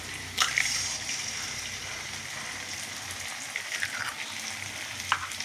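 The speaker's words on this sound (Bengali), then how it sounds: "এবার ফাটিয়ে আমি একটু ডিম দিয়ে দিলাম।" An egg cracked into a hot pan fries for mixed fried rice, giving a steady close sizzle with small pops and crackles throughout, no voices.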